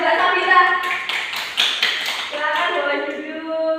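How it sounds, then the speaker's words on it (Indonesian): Classmates clap and tap for a female student after her sujud syukur practice presentation in a school fiqh class, a scattered, uneven patter of hands beneath voices and background chatter. "Tepuk tangan untuk Mbak Sabita."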